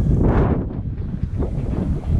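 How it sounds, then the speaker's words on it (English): Gusty wind on a grey lockdown day outdoors, roaring and buffeting the microphone continuously at close range, with no other sounds. "Wind was on cue."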